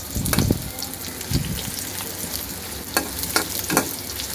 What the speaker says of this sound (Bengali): পেঁয়াজটা একটু ভাজা করে নিই